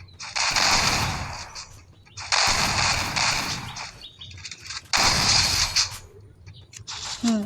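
Three bursts of gunfire in a shooting video game, a headshot among them, each loud blast rolling into a broad noisy decay, spaced a few seconds apart with a faint chirp near the end.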